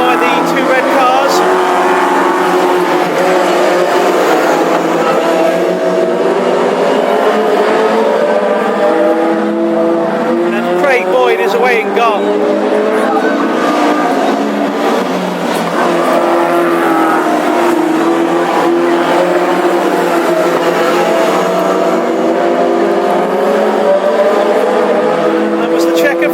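Classic hot rod race cars roar continuously around the Ipswich track during the East Anglian Championship Final, a dense, unbroken engine drone with a race commentator talking over it throughout.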